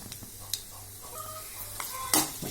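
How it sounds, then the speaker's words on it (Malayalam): Rice and mustard seeds sizzling in hot coconut oil in a pan while a Kerala-style drumstick thoran is being made, with a soft, steady fry and scattered sharp pops and crackles, the loudest burst near the end. "വെളിച്ചെണ്ണ ചൂടായി അതിലേക്ക് നമുക്ക് അരി ഇടാം"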